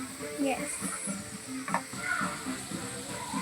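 Ginger and garlic frying in a pan while being stirred, with a steady sizzle and repeated scraping strokes, and voices talking now and then over it.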